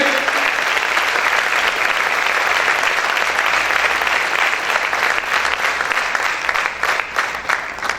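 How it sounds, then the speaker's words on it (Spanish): Worshippers in a church keep up strong, dense clapping that stays steady for most of the stretch, then grows slightly choppier and thins a little near the end. "Aplaude a tu Rey."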